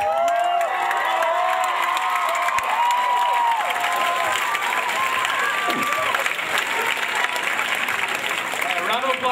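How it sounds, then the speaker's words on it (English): An audience at a live beatbox show applauds and cheers steadily, with dense continuous clapping, whoops and shouts filling the room throughout. "Right, round of applause for Will."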